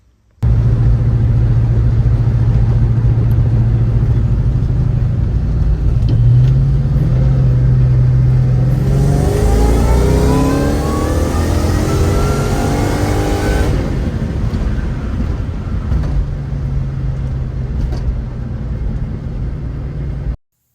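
A boosted car fitted with a SNO Performance water methanol kit roars loudly from inside, its engine rising steadily in pitch as it accelerates hard through the rev range, then settling back to a steady drone.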